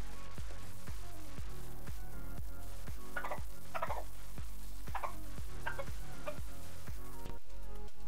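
Grimy drive chain on a Kawasaki Ninja 650 being scrubbed by hand, a steady run of rhythmic scraping strokes repeating roughly every half second, close and fairly loud, with no talking.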